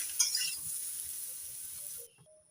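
Pieces of jackfruit frying in mustard oil in a kadai give a steady close hiss with light stirring clinks, then the sizzle drops away abruptly near the end.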